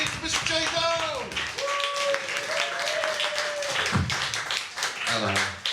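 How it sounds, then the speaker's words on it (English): A comedy club audience at a live show claps and applauds in a steady, dense patter of hand claps, running under a host's loud voice. "you ready to start stamping your feet, clapping them hands, give a wild crazy to Mr. J. Doe!"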